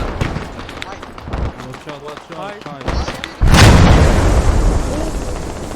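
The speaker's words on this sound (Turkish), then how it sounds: "Aha C4 patladı." A sudden loud C4 blast in the game Squad erupts midway through, followed by a sustained rumbling roar, after earlier busy game noise and talking voices.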